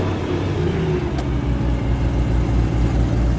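A 2011 BMW M3 engine accelerating, a steady loud growl with rising whir and a deep low rumble, heard alone without talk.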